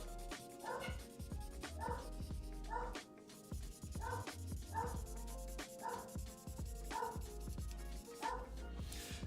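Several dogs bark in repeated short bursts, somewhat distant, over steady scratching and rubbing close by.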